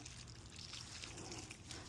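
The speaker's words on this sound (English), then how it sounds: "Okay, I'm just watering it down." Water trickling and pouring gently over a freshly planted perennial in a garden bed, a faint, steady dribbling wash that runs without a break.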